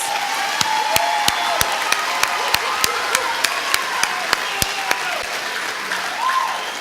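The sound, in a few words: audience applause for honor roll students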